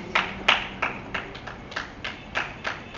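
A church congregation claps in a steady, even rhythm, about three claps per second, moderately close and with no voices over it.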